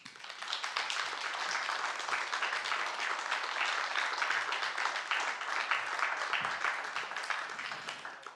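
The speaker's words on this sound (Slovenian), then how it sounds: "Pozdravimo jih z aplavzom." An audience at the Cankar Award ceremony applauds continuously for about eight seconds, a steady dense patter of clapping at moderate distance with no pauses.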